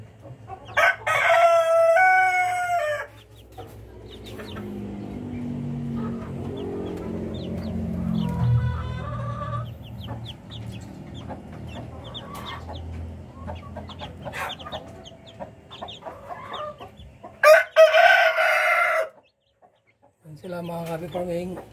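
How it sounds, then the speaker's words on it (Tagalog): A Rhode Island Red rooster crows loudly twice, close by, amid softer clucking from chickens, with a person talking between the crows. "So yung rooster natin, yung father nila mga Kabi Farming,"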